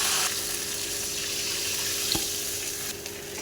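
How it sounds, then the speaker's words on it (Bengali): Water pours into a hot pan of fried spices for rohu fish curry, giving a steady hissing, sizzling rush with a brief clink partway through. "এবার দেবো ঝোলের জন্য জল"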